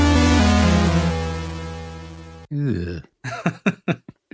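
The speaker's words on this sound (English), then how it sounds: "Damp fart is the definite." A long, wet, buzzing fart with wavering tone for over two seconds, followed by a burst of short sputtering pops, close and loud.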